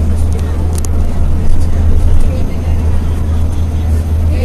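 A low, steady hum of an electric bus drones throughout, quiet and even, with faint rattles and occasional soft background voices.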